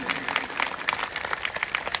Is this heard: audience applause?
yes